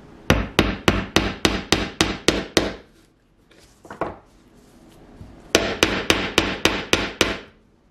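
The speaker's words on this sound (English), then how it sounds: "Just hold them with your needle nose pliers and hammer them down securely into the wood." Tack hammer driving tacks into wood: two rapid runs of sharp, evenly spaced taps, about eight to ten blows each, close and crisp, separated by a brief pause with a soft scrape.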